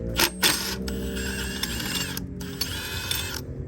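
A ratchet wrench clicks steadily while loosening a bolt on a bracket of a 2008 Toyota Highlander 3.5 V6 during a water pump job, close up, with a couple of louder metallic knocks at the start.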